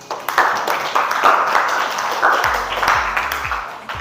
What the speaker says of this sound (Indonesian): Coba berikan tepuk tangannya,